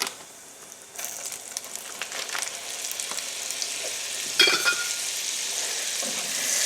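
Butter melts in a hot one-skillet pan holding leftover hamburger steak fat, sizzling and frying steadily with crackles and a brief stirring scrape, close and fairly loud, with no talking.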